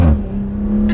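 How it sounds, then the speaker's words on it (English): Maserati Levante S Gransport from 2020 in sport mode, its exhaust giving a steady, loud engine drone through a downshift with a brief burble at the start and a short crackle near the end; no talking. "you can hear the pops in that exhaust, especially in sport mode"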